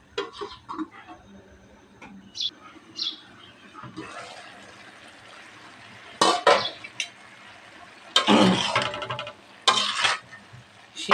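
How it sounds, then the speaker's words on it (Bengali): Vegetables are stirred in a cooking pan before cauliflower and tomato go in. There are scattered scrapes and clatters of a utensil against the pan, with several loud bursts of stirring and a faint sizzle between quieter stretches. "নাড়া দিয়ে আমি ঢেকে রাখি সবজিটা"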